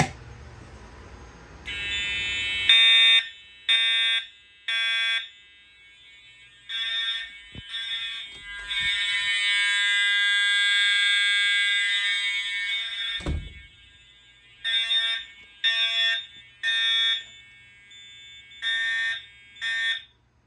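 A fire alarm blares in loud repeated pulses, with one long continuous blast in the middle, then resumes its steady on-off rhythm.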